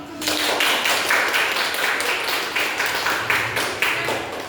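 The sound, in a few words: hand clapping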